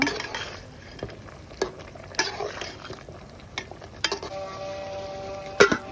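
Hilsa fish curry with papaya being stirred in a pan: a spoon clinks and scrapes against the metal several times at irregular intervals over a soft, steady simmer, close by.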